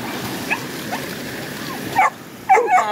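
A few short dog yips and barks, close by, in quick bursts near the end after a quieter stretch with soft background noise.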